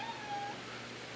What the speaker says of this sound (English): LT is just meowing her head off for me to pet her